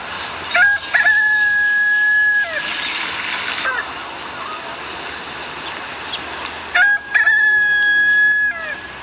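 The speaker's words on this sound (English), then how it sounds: "the rooster crowed and the flower disappeared just as before." A rooster crows twice, each call long, loud and close, separated by a few seconds of quieter background with a splashing burst between them.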